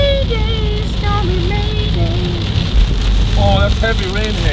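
Steady, heavy rain hisses throughout, with a wavering tonal whine on top of the downpour.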